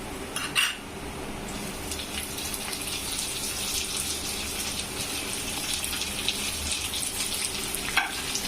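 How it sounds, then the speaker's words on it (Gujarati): Cabbage tipped into a pan of golden frying garlic, ginger and onion, giving a steady close sizzle and hiss with a brief splashy burst near the start and a faint clink of utensils. "હવે આપણે એમાં કોબી નાખશું"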